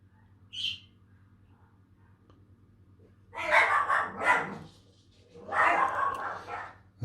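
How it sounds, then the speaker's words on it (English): A dog barks in the background while an electronics kit, a TDL-555 Touch Delay LED board, is being assembled; two bursts of barking, moderately distant, with a faint chirp beforehand and no talk. "that's the dog's barking in the background"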